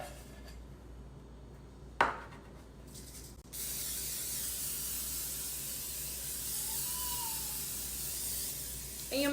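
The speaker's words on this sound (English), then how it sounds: "I will spray it with some non-stick cooking" Non-stick cooking spray hisses steadily from the can into a baking pan, a continuous close spray that runs for several seconds after a couple of short clicks and bursts.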